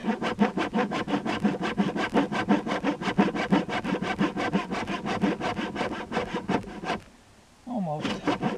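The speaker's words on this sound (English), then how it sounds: "I could have used my regular saw instead of this trim saw here." A hand trim saw cuts through deck wood in fast, even back-and-forth strokes, rasping loudly and close for several seconds before a brief pause and a final stroke.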